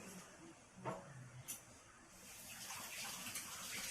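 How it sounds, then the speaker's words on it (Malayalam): Water poured in a small amount into thick pumpkin erissery, a Kerala sadya curry with cooked lentils, heard as a soft continuous gush and hiss with a few brief splashes, steady throughout and fairly close. "മത്തങ്ങ എരിശ്ശേരി എന്ന് പറയുന്നത് കുറച്ച് തിക്കായതുകൊണ്ട് ഞാൻ കുറച്ച് വെള്ളമേ ഒഴിക്കുന്നുള്ളൂ"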